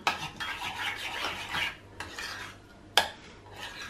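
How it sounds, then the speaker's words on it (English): Cauliflower fritter batter with egg and salt is mixed in a bowl, giving close, bright scraping and clinking strokes in quick uneven bursts with one sharper knock near the end. "Just mix it to make a nice fritter batter."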